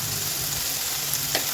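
Ginger garlic paste frying with curry leaves and coriander in a pan gives a steady, close sizzling hiss throughout, with one faint soft tap near the end.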